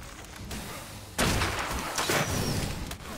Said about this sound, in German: Ich hab den scheiß Raketenwerfer an.